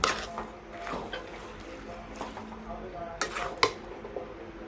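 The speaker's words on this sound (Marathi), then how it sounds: "छान परतत राहायचं आहे सारखं, कारण की कढईला बुडाला लागू नये" A spoon scraping and stirring raw mango and jaggery jam in an iron wok, with irregular clinks and knocks, fairly close and moderately quiet.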